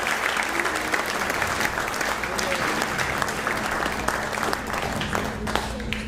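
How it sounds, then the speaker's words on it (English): A concert audience at a fingerstyle guitar festival breaks into sustained, vigorous applause, many hands clapping densely and evenly with a faint crowd murmur underneath. "one round of applause for them as well."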